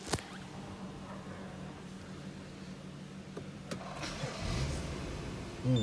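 A 2013 BMW 640i Gran Coupe M Sport engine cranks and fires near the start, then settles into a steady idle hum with a brief louder surge near the end.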